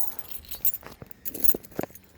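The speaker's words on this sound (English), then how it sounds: "Let's see if I got the keys handy." Car keys for a retired Crown Victoria police car jangle and clink close by in a few short, light bursts, with no talking.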